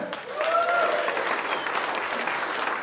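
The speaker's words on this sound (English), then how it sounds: "Round of applause for them." Applause from the audience at a 2018 chamber business excellence awards evening in a pavilion in Silverthorne: a loud, dense, steady clapping that fills the whole stretch without a break.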